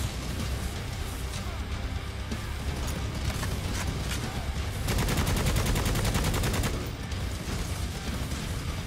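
Heavy gunfire from a big gun in a horde-shooter video game, a steady stream of loud shots with a denser, rapid burst in the middle and little talk.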